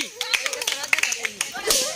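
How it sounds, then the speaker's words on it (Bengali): Children clap in scattered, uneven bursts of sharp hand slaps, close and fairly loud, while voices talk over the clapping. "জোরে তালি হবে, তালি"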